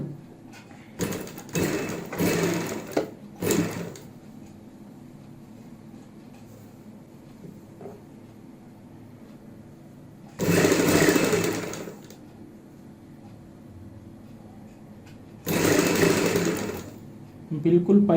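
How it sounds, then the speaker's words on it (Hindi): A sewing machine stitches piping onto a kurti panel in two short, steady bursts of loud whirring, separated by quieter stretches where someone speaks. "बिल्कुल पाइपिंग के साथ साथ सिलाई लगानी होती है।"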